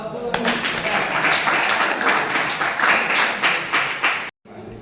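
A classroom of students claps after a classmate finishes a talk, a burst of dense, fairly close applause lasting a few seconds before cutting off abruptly, with a voice briefly audible under it.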